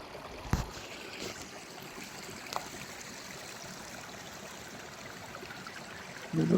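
Steady broadband rush of a mountain stream on the climb to a hut in the Verzasca valley, Switzerland, flowing continuously with a couple of brief knocks and a louder rustle at the end.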